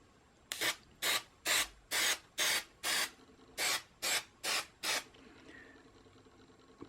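Contact adhesive sprays from an aerosol can with an adjustable wide or narrow nozzle in ten short, evenly spaced hissing bursts close by, followed by quiet.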